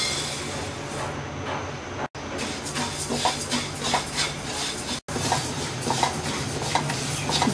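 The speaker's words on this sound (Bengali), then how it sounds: "ডালটাকে প্রথমে আমরা হালকা ভেজে ভালো করে ধুয়ে" Moong dal dry-roasting in a pan while being stirred, a steady scraping and rustling of the lentils against the metal that runs close and fairly loud, with two brief drops to silence.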